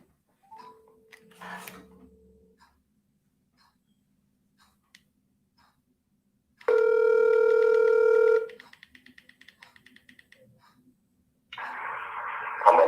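A phone call is placed: a few short dialing tones, then a steady dial or ringback tone lasting about two seconds, followed by faint ticking and a burst of noise, all in a quiet room.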